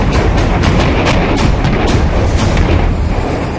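Indian Army artillery gun firing, a loud dense booming blast with rumbling low end and repeated crackling bursts that sustain for several seconds before easing slightly.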